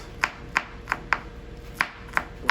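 Quick, crisp knife taps mincing garlic on a cutting board, about seven chops in an uneven rhythm, close and fairly quiet.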